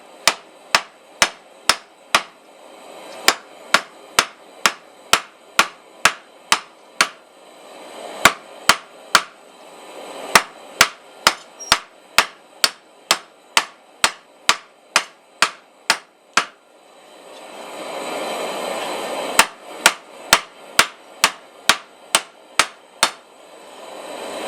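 Light hammer blows forge a steel leaf key chain, sharp ringing strikes landing in quick regular runs, with brief pauses between bursts and a faint hiss in the background.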